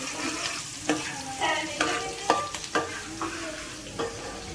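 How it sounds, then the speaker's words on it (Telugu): Onions frying in oil in a pan for a fish curry, a soft continuous sizzle broken by several sharp scrapes and taps of a spoon as they are stirred, heard up close with no talk. "ఇది ఉల్లిగడ్డలు ఫ్రై కావాలి"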